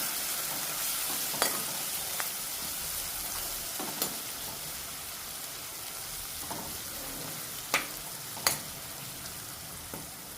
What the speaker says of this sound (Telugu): ఈ ఉల్లిపాయ కొంచెం వేగిన తర్వాత అల్లం పేస్ట్ కొంచెం పసుపు వేసుకొని ఈ రెండు గోలే వరకు కలుపుకోవాలి మనం